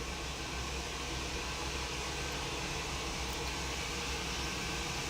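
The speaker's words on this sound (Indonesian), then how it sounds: "Al, kedengeran gak sih Al yang lagi nge-hair dryer rambut?" A hair dryer blowing on hair, a steady, even whooshing roar of air that stays constant and fairly close throughout with no pauses.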